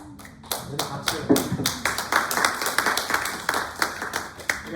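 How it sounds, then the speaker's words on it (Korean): A church congregation at a Sunday worship service claps together, a run of sharp, rhythmic hand claps at moderate volume filling the room, with voices murmuring underneath. "박수."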